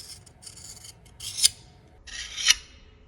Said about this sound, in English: find the bevel of the knife, and then make sure it's flat on the stone, and then just slide this knife up,